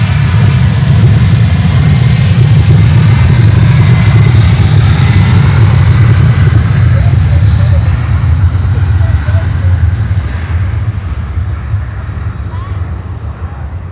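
A heavy airliner thunders on takeoff from Miami Airport, a loud, sustained low jet roar that slowly fades as it climbs away, with wind buffeting the microphone and radio chatter in the background.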